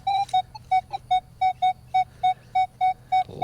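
A Minelab Manticore metal detector sounds a clear, high target tone, a dozen evenly spaced short beeps repeating in a steady rhythm over quiet background hum.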